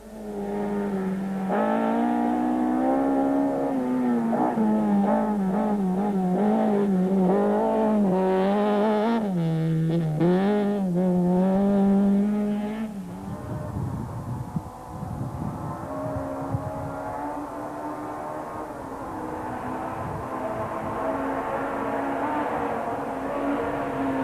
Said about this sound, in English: Skulpberger was still hustling his SP Invest Toyota Corolla along very nicely.